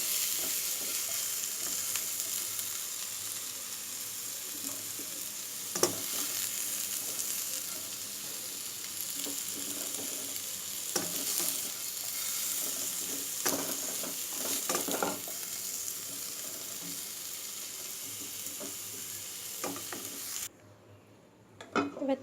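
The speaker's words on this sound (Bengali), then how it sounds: "অল্প একটু এঁচড়টা ভেজে নিলাম" Chunks of raw jackfruit frying in hot oil, a steady close sizzle with occasional stirring knocks and utensil scrapes, ending abruptly near the close.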